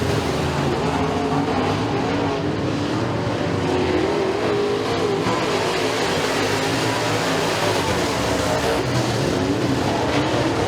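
Race cars roar continuously around the Stateline Speedway short track during a heat race under green flag conditions, a dense, steady wall of engine noise with passing surges and no pauses.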